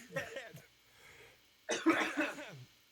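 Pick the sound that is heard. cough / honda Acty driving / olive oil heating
cough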